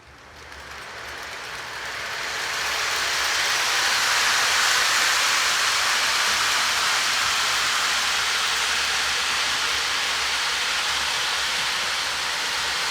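An MTH Premier model train with 40-foot USRA single-sheathed box cars rolls around a layout, a steady, even rushing roar that swells in over the first seconds and then holds close and constant, with no talk.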